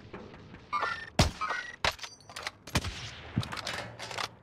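Gunfire in a video game: scattered sharp shots and short bursts, some louder and nearer, others thinner, with brief gaps between them.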